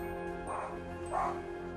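A dog that spins aggressively while chasing its tail lets out two short, close barks or yips about half a second apart, over a steady low hum with faint background tones.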